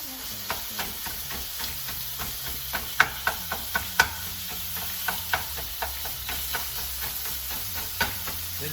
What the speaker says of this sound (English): We're gonna start chopping it up.